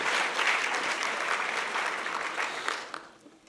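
An audience at an Alzheimer's brain health forum applauds the outreach team, the clapping full at first and then thinning and fading out near the end.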